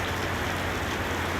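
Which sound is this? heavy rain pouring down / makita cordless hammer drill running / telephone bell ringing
heavy rain pouring down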